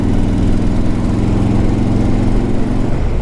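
A 2004 Harley Davidson Ultra Classic motorcycle engine thrums loud and steady while riding at speed, a deep continuous rumble with wind noise, no talking.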